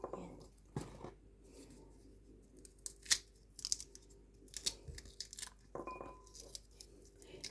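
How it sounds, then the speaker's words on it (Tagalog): Scissors snip fruit peels into small pieces for garden fertilizer, giving a few sharp, separate cuts and faint crinkling close by, with long quiet gaps between them. "Gunting-guntingin ko siya ng maliliit."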